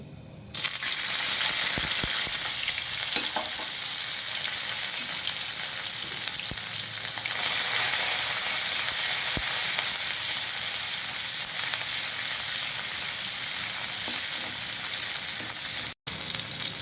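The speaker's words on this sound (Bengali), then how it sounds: "সেম তেলে দিয়ে দিচ্ছি রসুন" Garlic frying in hot oil for an eggplant pickle, a loud, close and continuous crackling sizzle that starts abruptly and holds steady throughout, with an occasional light clink.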